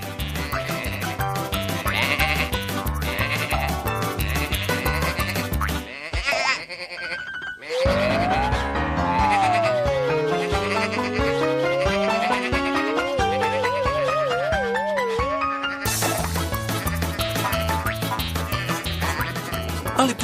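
Cartoon sheep bleating loudly over lively music in a farm animation about sheep playing football, with a melodic section and a short pause midway.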